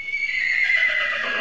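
A horse gives a single close, loud neigh, a shrill whinny lasting just over a second.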